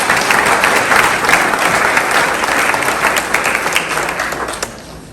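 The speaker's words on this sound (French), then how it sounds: "On peut les applaudir." A crowd at a town mayor's New Year ceremony applauds two municipal officials, loud dense clapping that stays strong for about four seconds, then thins with a few last scattered claps and fades.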